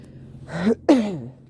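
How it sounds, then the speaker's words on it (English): Two short, rough throat clears in quick succession, close and fairly loud, against a quiet background. "I'll be clearing my throat a lot, I know."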